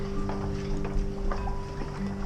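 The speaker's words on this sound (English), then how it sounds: "Hear people going overhead." Footsteps of people crossing a road bridge overhead at Constitution Dock in Hobart, heard from a kayak underneath, soft irregular thumps under a constant low hum and drone of the surroundings.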